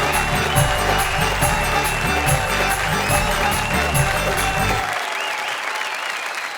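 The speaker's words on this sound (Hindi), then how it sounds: "आइए तालियों की घनघोर बारिश कर दें डॉक्टर राहत इंदौरी" Loud, thick applause from a poetry-show audience welcoming poet Rahat Indori, a continuous roar of clapping close up that cuts off abruptly near the end, with faint musical tones underneath.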